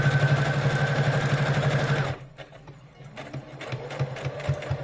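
A sewing machine stitches a face mask with a loud, steady whir for about two seconds, then stops, leaving quieter clicks and fabric handling noises close by.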